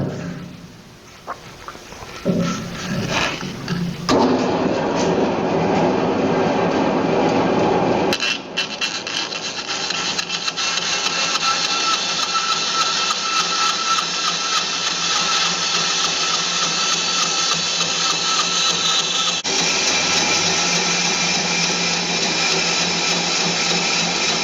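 Saw cutting a piece of wood for a hammer handle, a loud continuous rasping grind running nearly unbroken after some brief handling sounds at the start.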